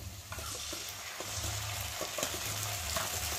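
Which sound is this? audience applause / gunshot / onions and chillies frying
onions and chillies frying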